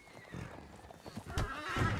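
Horses in the Red Dead Redemption 2 roleplay game clip-clop and neigh at close range, a short burst of hooves and a whinny rising toward the end over a busy game background.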